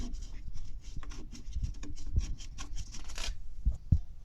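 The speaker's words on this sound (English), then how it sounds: "get the screws. And just start screwing it in." Small screws are turned in by hand while fitting a cabin filter in a Smart car, with close scratchy rubbing and light clicks in uneven short bursts.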